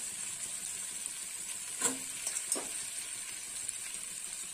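Pieces of pointed gourd (kakrol) drop into a spice paste frying in a pan. A steady close sizzle runs throughout, with a short burst of louder crackling and a couple of stirring clinks as they go in.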